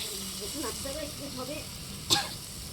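Mustard flower paste fries in oil as it is stirred in a rural Bengali kitchen, giving a steady low sizzle and hiss under a person talking, with one sharp clink near the end.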